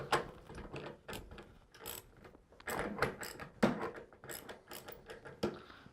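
A 24 millimeter socket wrench ratchets on a Tornador jar cap held in a vise, producing quick, close mechanical clicking in uneven bursts, fairly quiet and without talk.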